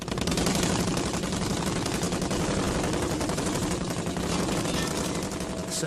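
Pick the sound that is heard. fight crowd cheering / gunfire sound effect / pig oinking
gunfire sound effect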